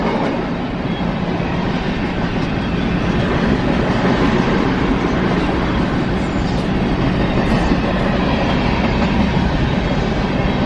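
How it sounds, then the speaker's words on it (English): A long freight train rolls past a car with its windows down on a cold night, a loud, steady rumble with rail clatter running unbroken throughout, no talk over it. "I love the sound of the train."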